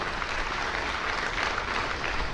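A large audience at a multi-level marketing seminar breaks into dense, sustained applause that fills the room steadily throughout, with no pauses and no voices on top.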